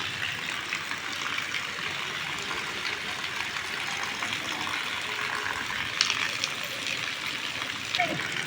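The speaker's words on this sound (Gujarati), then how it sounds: "બજારમાં પાણી હાલતા થઈ ગયા છે" Rainwater running through a village market street, a continuous rushing wash of flowing water with occasional splashes, steady and fairly close, with faint voices in the background.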